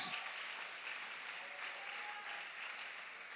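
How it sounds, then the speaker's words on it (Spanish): A church congregation breaks into steady, dense applause, a continuous wash of many hands clapping, faint and distant, trailing off slightly toward the end. "Si va a aplaudir, apláudale a nuestro Señor"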